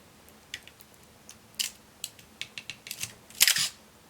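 Canon AE-1 Program film camera with a faulty shutter release: a string of crisp, close mechanical clicks and ratchets as the advance lever is cocked, ending in a louder snap of the shutter firing.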